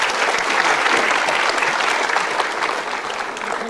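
A studio audience at a Mario Teguh Golden Ways taping gives a dense, steady round of applause, sustained and even throughout with no talking over it.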